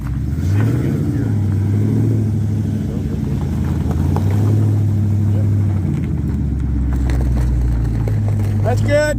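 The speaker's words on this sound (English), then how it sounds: "How about that exhaust, huh? Does that sound good or what?" A car engine rumbles low and throaty from close by, with the exhaust note rising and falling as it revs.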